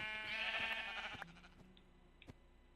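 Sheep in a Minecraft survival game bleat in a bright, wavering cry that fills the first second, then trails off into scattered soft clicks and a few faint taps.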